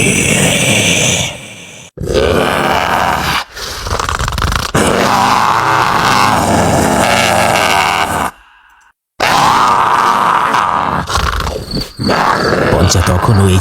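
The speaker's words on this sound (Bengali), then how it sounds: "কেবল ঝিঁঝি পোকার ডাক আর গোঙানের শব্দ ভেসে আসছে পচার কানে" Crickets chirp steadily at night in a haunted pond setting, joined by low groaning and grunting; the dense insect trill and eerie moans fill the scene loudly, broken by a few short silent gaps.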